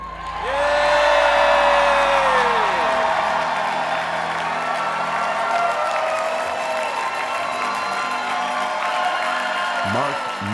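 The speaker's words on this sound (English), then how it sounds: "Can you give me, before we go, one final Federation cheer?" A convention crowd of the National Federation of the Blind roars a final Federation cheer, loud sustained cheering, whoops and applause filling the hall from start to finish with voices shouting throughout.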